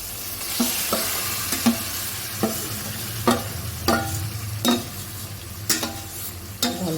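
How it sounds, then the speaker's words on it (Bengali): Mutton poured into a pan of fried onions sizzles loudly and steadily up close, with repeated sharp spatula scrapes and knocks at irregular intervals and no talking. "পেঁয়াজ ভাজা ভাজা হয়ে গেছে সব দেখা গেছে আর এতে কিছু দেবো না কারণ মাটনে আমি সব কিছু দিয়ে দিয়েছি মাটনটা এবার ঢেলে দেবো"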